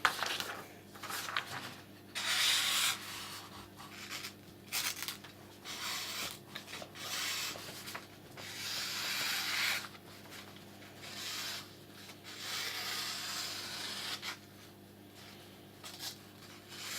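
A convex-ground knife edge is drawn in repeated rasping strokes over a sharpening surface, close and fairly quiet, the scraping strokes coming in irregular bursts over a low background hum.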